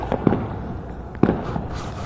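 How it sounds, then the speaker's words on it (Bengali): Fireworks burst at New Year's midnight, two sharp pops close together followed by a louder bang, set against a continuous noisy background of distant crackling. "দেখো কত বাজি ফাটছে"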